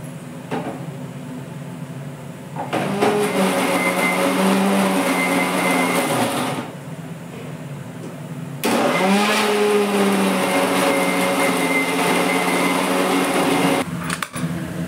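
An electric kitchen mixer grinds a masala of coconut, roasted onion, garlic, ginger and coriander in two loud, sustained whirring bursts separated by a short quieter pause.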